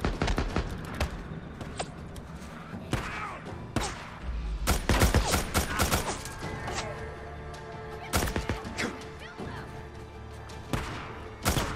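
Sniper gunfire rings out in Days Gone survival mode: sharp, loud shots crack in irregular bursts, some in quick clusters, with gaps of quieter game ambience between.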